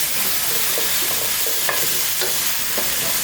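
Eggplant and potato fry in a pot with curry powder, giving a dense, steady sizzle with scattered light clicks of stirring, close and fairly loud, with no voices.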